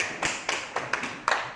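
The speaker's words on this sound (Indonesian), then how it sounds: "Tepuk tangan dulu." A classroom of children claps in five separate, evenly spaced bursts, quiet and fairly close, with no talking.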